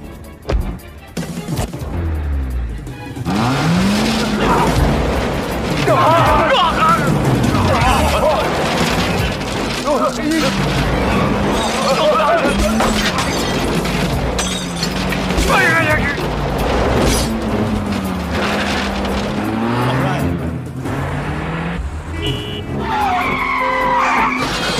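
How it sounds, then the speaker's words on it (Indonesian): A car chase scene from a Jackie Chan film, with a car skidding and getting stuck in sand: loud, continuous engine roar and tire skidding throughout, with booming impacts and mechanical clatter under a dramatic score. "Di tengah kejar-kejaran, mobil Jackie Chan malah kejebak pasir."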